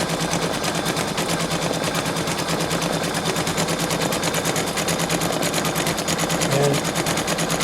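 A Brother Innov-is 2800D embroidery machine stitches a complex design, a fast, even mechanical chatter of needle strokes that continues unbroken and close throughout.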